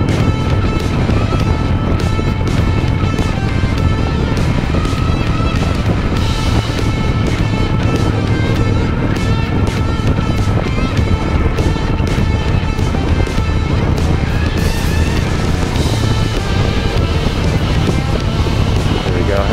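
A Harley-Davidson Nightster engine drones steadily in fourth gear at cruising speed with heavy wind rush, loud and constant throughout, a voice faintly underneath.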